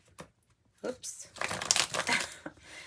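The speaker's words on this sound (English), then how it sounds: "sometimes this deck wants to shuffle, sometimes it doesn't" A tarot card deck is shuffled in short bursts of riffling, papery flutter, close and fairly quiet, with a few soft taps before the main shuffle.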